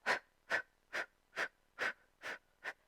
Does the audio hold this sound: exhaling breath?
yes